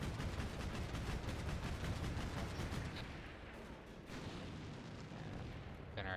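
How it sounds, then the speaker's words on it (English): Distant artillery fire in the wargame Combat Mission rumbles as a dense, continuous roar of overlapping booms. It stays fairly faint throughout and eases slightly in the middle. "Then our artillery starts coming down this area here."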